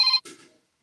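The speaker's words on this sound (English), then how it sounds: "somebody's calling my phone. Do y'all hear the phone ringing?" A phone ringtone sounds in a short bright tonal burst that cuts off abruptly, followed by a brief fading tail, then silence.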